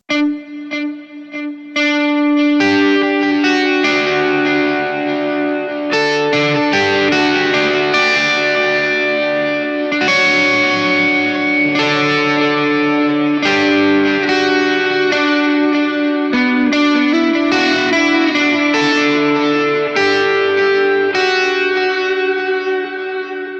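Electric guitar run through the reverb effect of a Donner Arena 2000 multi-effects pedal, a steady stream of picked notes and chords ringing out with a washy, sustained tail, loud and alone with no talking.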